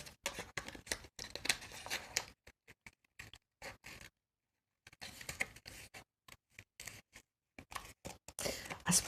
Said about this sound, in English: This one I'm going to fussy cut this one.